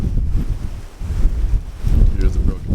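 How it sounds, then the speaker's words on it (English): Strong hurricane wind from Hurricane Ian in southwest Florida roars and buffets the microphone in loud gusts outdoors among storm debris and downed trees, heard without speech. "the wind is still blowing."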